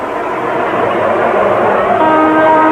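A loud train rumbles past close by, a steady roar with rising whine tones toward the end.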